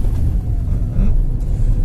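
A car accelerates in second gear on a driving exam route, giving a steady low engine rumble heard from inside the cabin with no break in the drone.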